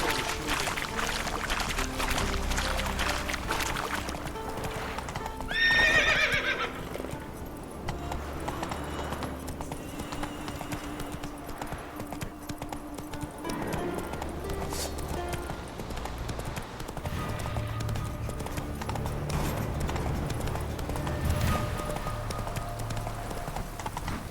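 Horse hooves in The Witcher 3, rhythmic clip-clop of a trotting and galloping mount, moderately close and steady, with a brief snort or whinny partway through and faint background ambience.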